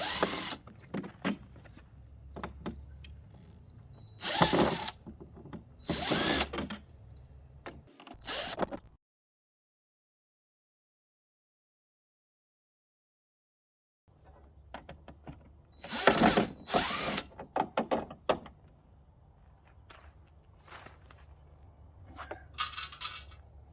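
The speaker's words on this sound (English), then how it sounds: "I'm just going to use a little drill driver." A small cordless drill driver backs screws out of a camper door window frame in short bursts, with a silent gap midway and more bursts after, close and moderately loud.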